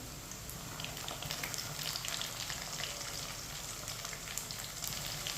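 Garlic and ginger sizzle with browned onions in a pan for a chana daal and bottle gourd curry, a steady close frying crackle with faint stirring scrapes and no talk.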